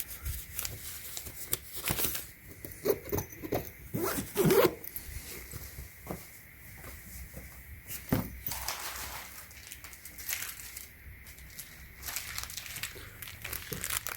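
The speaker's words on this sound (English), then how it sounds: "They also have this zipper in case you need to wash it." The zipper on a wooden storage bench's seat cushion cover is pulled open in a series of quick, close, rasping strokes with small rustles of fabric in between.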